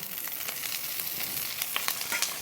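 Drumstick greens hit a pan of fried potatoes, setting off a steady, close hiss of frying with scattered crackles and pops throughout.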